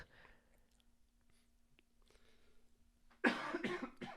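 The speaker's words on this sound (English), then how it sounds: "Pause for cough." A single burst of coughing near the end, loud and close, after a stretch of quiet room noise.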